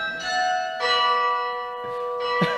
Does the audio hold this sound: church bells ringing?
yes